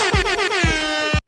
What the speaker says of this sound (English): The Jamaican air horn.